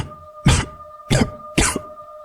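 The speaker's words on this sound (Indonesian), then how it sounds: "Suara batuk." A man coughs three times in quick succession, sharp bursts evenly spaced against a quiet background with a faint steady hum.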